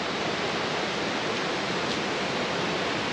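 A mountain waterfall pours below a footbridge on a hiking trail on Sobaeksan, Korea. It makes a steady, unbroken rushing roar of falling water, close and even in loudness, with no voices.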